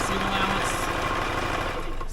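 A Know ME 2050 sewing machine runs fast and steady along a garment's shoulder seam, a dense continuous mechanical whir close by with no pause.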